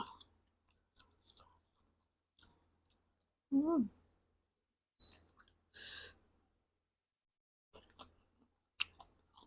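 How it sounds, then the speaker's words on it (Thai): Someone eating Thai khanom jeen rice noodles with spicy papaya salad, with soft, intermittent chewing and slurping sounds close to the mic, scattered across a quiet background. "กินแท่งขนมจีน"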